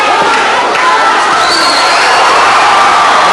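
A boxing crowd roars and cheers at a punch combination from Casius Baloyi in his fight against Juan Cabrera: a loud, dense, continuous wall of cheering voices that holds for the whole stretch.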